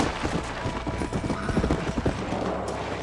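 Horse hooves clip-clop at a steady gallop in the video game Red Dead Redemption, a quick repeating beat close and fairly loud over a dense game soundscape.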